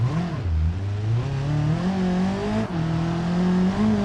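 A Volkswagen Arteon in BeamNG.drive accelerating hard, its engine note climbing steadily through the revs with a brief shift dip, loud and close with no talk over it.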